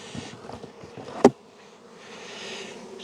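A few honeybees buzz faintly around a hive as a beekeeper works it; a soft, continuous insect hum with one sharp brief knock partway through.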